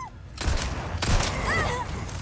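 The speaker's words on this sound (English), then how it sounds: "I'm a little disappointed that you only fired the cannon twice" Heavy booming blasts of a cannon in the Resident Evil 4 video game, two loud bursts about half a second apart followed by a lingering noisy wash with faint whistling tones.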